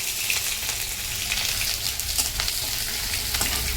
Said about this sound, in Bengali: সবজিগুলোকে একটু ভেজে নেব হালকা ফোড়ন দিয়ে একটু ভেজে নেব